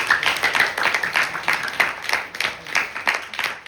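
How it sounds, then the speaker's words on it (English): An audience at a Navratri night gathering applauds with many hands clapping in a fairly brisk rhythm of distinct, moderately loud claps that blend into a crowd patter, with no talking heard. "Give them a round of applause."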